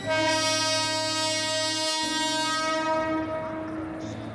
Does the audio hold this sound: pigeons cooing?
no